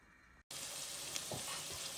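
Tempering for an okra curry hisses and sizzles hard in a pressure cooker, a loud, continuous frying crackle that starts abruptly after a brief cut.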